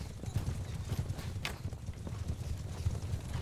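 Horse archers galloping in the video game Bannerlord Warsails, a steady patter of hoofbeats close by, with a brief whoosh partway through.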